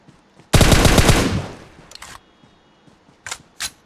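An M4 rifle in the PUBG game fires a dense, loud rapid burst, followed by a fading tail and then a few short, sharp bursts and clicks.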